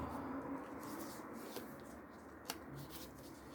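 Long paper scraps being folded by hand make soft, continuous rustling and crinkling, with a small crisp crease tap partway through, close and quiet with no talking.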